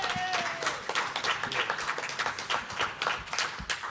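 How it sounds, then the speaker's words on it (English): A crowd at a live wrestling event gives a round of applause, scattered claps filling the room at moderate loudness and continuing steadily without a voice over them. "give him a round of applause"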